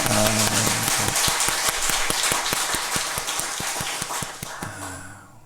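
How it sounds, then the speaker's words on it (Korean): Church congregation clapping to bless children and teens, a loud run of sharp, evenly spaced claps in a steady rhythm, with brief speech heard before and after. "우리 어린이들, 청소년들 박수로 축복하겠습니다"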